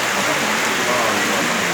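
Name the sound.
rain falling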